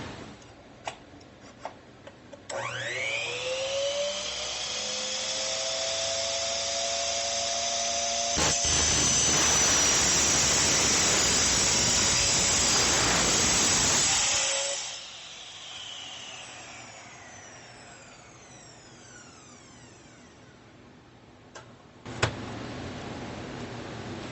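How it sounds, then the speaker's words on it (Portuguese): A TECEPO 1600W 10-inch miter saw spins up to a loud whine, bites through an aluminum profile with a harsh, grinding screech for several seconds, then winds down slowly with a fading hum and a final clack. "vamos ver como que a máquina se sai cortando um perfil de alumínio com o disco que veio nela"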